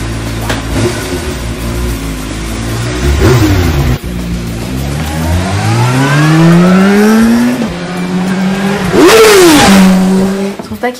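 A motor engine revs hard as it pulls away, pitch climbing in rising sweeps, dropping, then surging sharply again near the end, loud and close throughout with no talk.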